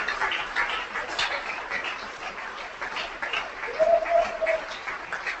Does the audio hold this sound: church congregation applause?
yes